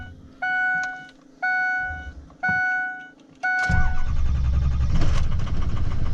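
A Ford F250 with a 6.0 Power Stroke diesel engine starts up: three evenly spaced warning chimes come first, then the starter cranks and the engine catches into a loud, rough, rattling idle.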